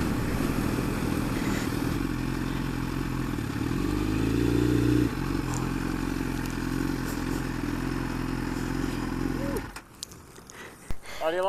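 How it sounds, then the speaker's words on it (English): A Suzuki GSX-R 1000 inline-four motorcycle engine runs close by with a steady droning note, swelling with a brief rev before cutting off, followed by faint clatter. "Nothing sounds like an inline 4."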